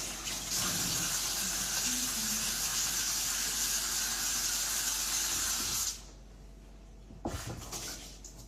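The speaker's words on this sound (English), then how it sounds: "Just wash my hands a little bit." A tap runs while someone washes their hands, a loud steady hiss of flowing water for about six seconds that then stops abruptly, followed by a few quieter splashes and clatters.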